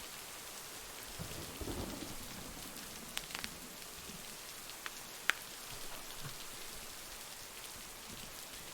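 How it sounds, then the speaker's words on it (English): Heavy rain pouring steadily in a thunderstorm by a lake, a dense continuous hiss with a few sharp close drips and crackles. "Rain's coming down really hard."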